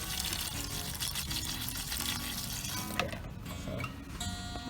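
Tap water running from a sink into a container in a home art studio, a steady close rushing pour with a brief gurgle and slight change in tone near the end.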